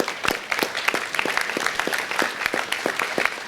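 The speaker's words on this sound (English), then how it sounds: "give them a round of applause for their recycling efforts" Applause from a city council chamber audience for Rancho High School students honored for recycling efforts, a moderately sized group clapping steadily with distinct individual claps standing out, no talk over it.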